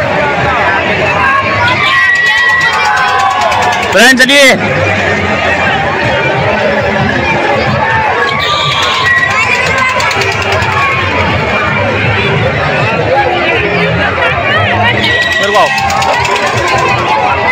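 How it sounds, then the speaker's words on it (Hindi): A dense crowd at the Dussehra fair at Jogi Nawada in Bareilly: constant babble and bustle with scattered louder noises, while someone speaks close by over the din. "बहुत बहुत ज्यादा भीड़ भाड़ है, बहुत ज्यादा।"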